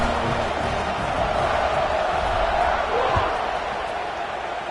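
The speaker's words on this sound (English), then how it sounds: "this crowd is feeling themselves after that last drive" Football stadium crowd at a college game, a dense roaring wall of cheering and noise that holds steady throughout, with an announcer talking over it.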